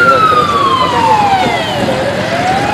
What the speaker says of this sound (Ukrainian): На місце події прибуває аварійно рятувальний автомобіль